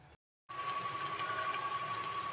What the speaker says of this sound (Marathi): आणि 1 शिटी करून घ्यायची.